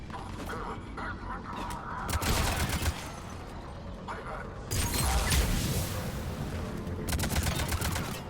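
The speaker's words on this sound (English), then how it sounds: "I'm really liking this assault rifle." Rapid automatic assault rifle fire from the Mass Effect 3 video game, coming in bursts of gunfire with mechanical clicks and game ambience between them, and a louder volley near the end.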